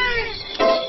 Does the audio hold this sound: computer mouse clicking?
no